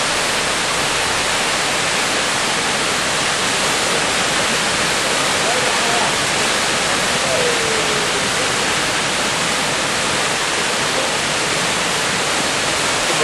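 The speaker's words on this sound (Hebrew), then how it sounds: "יש פה פשוט מפלים מטורפים של מים." Flash flood waterfalls pour off a Negev desert crater wall after January rains, a loud, dense, unbroken roar of falling water filling the scene throughout.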